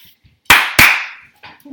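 Two sharp, loud hand claps in quick succession, aimed at a clapper switch for a salt lamp, each ringing out in a small room, followed by a faint thud.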